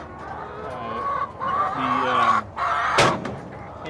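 Young hens clucking inside a chicken tractor with a padded nest box, several soft close clucks and a brief sharp call near the end, with no talk over them.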